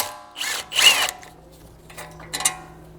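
A power tool spins out the 16mm ball joint bolt on an Audi S5 front control arm, giving two short whirring bursts followed by a couple of fainter, briefer runs, close up with no speech.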